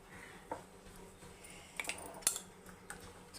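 A spoon stirs salted dosa batter in a bowl, making scattered light clinks and scrapes of metal against the dish. The taps are sparse and fairly quiet, with soft swishing between them.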